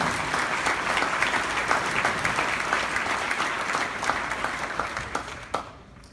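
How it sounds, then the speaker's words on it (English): Banquet audience at the Bass Fishing Hall of Fame induction ceremony applauding the first inductee, a big sustained round of clapping filling the hall before tapering off at the end. "One more time, big round of applause for our first inductee."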